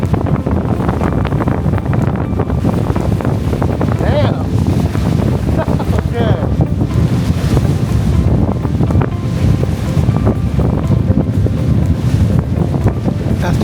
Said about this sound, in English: I shot this video of the raging waters by the dock